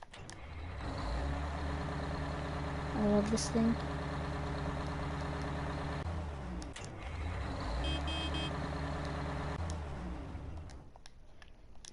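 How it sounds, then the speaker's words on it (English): Big Bud 747 tractor, 1100 horsepower, in Farming Simulator 19, its deep engine idling and rumbling steadily with a short hiss partway through, under a man's speech. "It's a big, powerful tractor."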